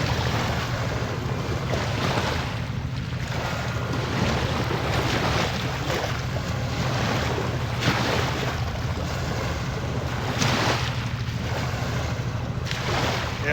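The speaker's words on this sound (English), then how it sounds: "this barge just pushed the waves almost up to my chair" A passing river barge pushes waves toward the bank, a continuous rushing wash and slosh of water mixed with steady wind noise and a low rumble, with no talking.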